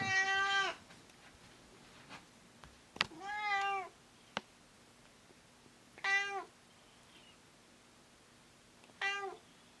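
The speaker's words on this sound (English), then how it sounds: "my cat, she just meowed for no reason." A pet cat meows four separate times at irregular intervals, each call short and clear against a quiet room with a faint steady hum.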